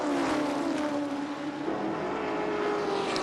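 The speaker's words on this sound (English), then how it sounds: "That engine revving hard as Bradley rounds up the tail enders." AUSCAR race car engine screaming at high revs on the Calder Park Thunderdome oval, a loud continuous near roar with a slight rise and fall in pitch, heard alone.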